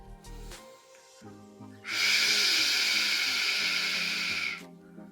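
A group of children in a speech therapy lesson imitates a snake with a sustained shushing 'sh' hiss, steady and even for about three seconds, with a faint voice and room murmur before it begins.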